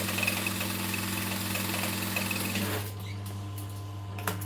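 A sewing machine stitching a straight seam on a vinyl handbag runs with a steady close whirring drone, then slows and quiets near the end with a few small clicks.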